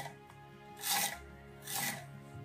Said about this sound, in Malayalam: ഇങ്ങനെ ഒരു പച്ചക്കായയുടെ തൊലി എടുത്തിട്ട് ആദ്യം നീളത്തിൽ കട്ട് ചെയ്തെടുക്കുക.